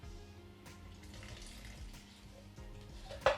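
Warm water being poured into flour for sourdough dough, a close, steady trickling stream that runs throughout, ending with a brief louder knock or clink, with no talk.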